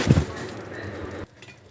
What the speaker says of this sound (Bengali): তেল গরম হয়ে গেছে দিয়ে দিলাম সাদা জিরে ফোড়ন